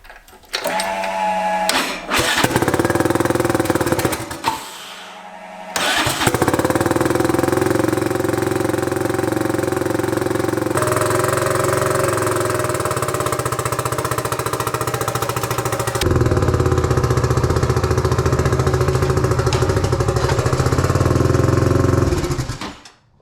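A turbocharged EFI 660 lawnmower engine cranks briefly, stumbles, then catches and runs loudly and steadily up close, its droning roar holding for about twenty seconds and growing louder near the end.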